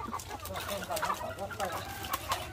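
Chickens cluck repeatedly at close range in short, irregular bursts over a low steady background, with faint voices in the mix.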